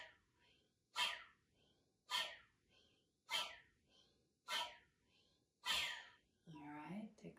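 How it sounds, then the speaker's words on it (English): Forceful breath-of-fire exhales are pushed out in a steady rhythm, five sharp puffs about a second apart, close and breathy, followed by a brief softer breath at the end. "I'm actually forcefully pushing the breath out with each exhale"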